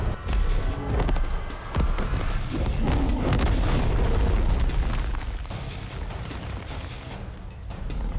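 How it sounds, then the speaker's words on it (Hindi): Heavy tank cannon blasts boom one after another amid rumbling bursts of fire, loud and dense, the low roar barely letting up throughout. "टैंक फायर करते हैं"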